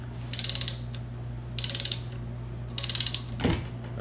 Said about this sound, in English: Now, we've got our torque wrench, it's set at 100 foot-pounds